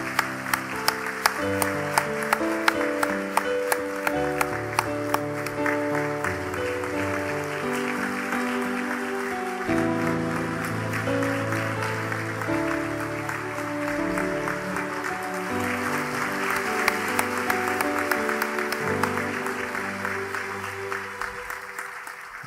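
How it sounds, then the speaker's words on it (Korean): Congratulatory applause from a church congregation during a pastor's inauguration service, with steady clapping running throughout over sustained organ or keyboard music. "박수로 축하드리겠습니다."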